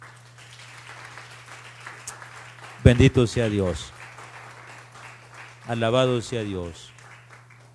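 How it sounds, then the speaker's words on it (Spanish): A church congregation at a Spanish-language Sunday study gives soft, diffuse applause running under the whole passage while someone speaks in two short bursts of praise over it. "¿Le puedo dar un aplauso al Señor?"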